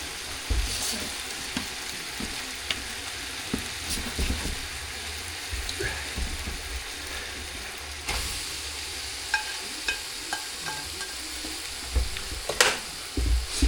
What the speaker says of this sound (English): That's what it's supposed to look like when you're cooking stir fry.